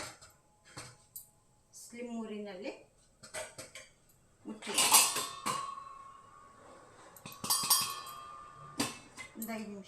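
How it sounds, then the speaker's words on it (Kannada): Ragi flour vegetable upma being mixed in a pot with a lid set on top, giving clear metallic clinks and scrapes of utensils against the pot in scattered bursts, close by, with talking in between. "ಈ ಥರ ಎಲ್ಲ ಮಿಕ್ಸ್ ಕೊಟ್ಬಿಟ್ಟು ಮುಚ್ಚಿಟ್ಬಿಡೋಣ ಒಂದು ಐದು ನಿಮಿಷ"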